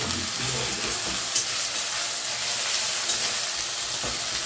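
Ginger garlic paste fries with onions in a pan for a minced meat devil dish. A loud, close, continuous sizzle crackles without a break, with a couple of faint stirring knocks and no talking.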